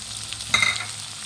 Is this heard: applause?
no